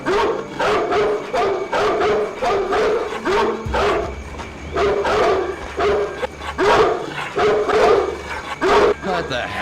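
A dog in the stealth game Splinter Cell Pandora Tomorrow barks repeatedly in short yapping bursts, a steady rhythm of loud, close woofs over a low background hum.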